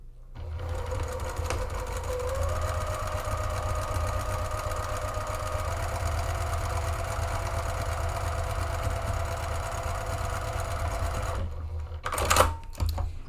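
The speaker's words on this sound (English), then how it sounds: "using 3/8 of an inch seam allowance, top stitch across that folded edge" A sewing machine top-stitches across the folded edge of a fabric pocket, running with a steady, close, rapid stitching drone for about eleven seconds before stopping, followed by a few brief handling clicks and no speech.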